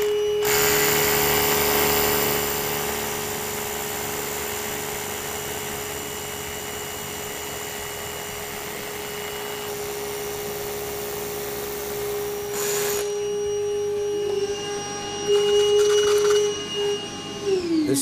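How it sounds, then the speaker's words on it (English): A power drill whines steadily at a constant high pitch for a long stretch, boring a 3/4-inch hole 2 inches deep into a concrete floor, then changes tone and winds down near the end. "I'm now going to drill a 3/4-inch diameter to a depth of 2 inches."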